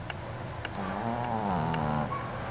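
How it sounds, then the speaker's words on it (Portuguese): A man snoring in a slow, close rasping breath, one long drawn-out snore filling the short stretch with a faint hiss behind it. "Ele ronca."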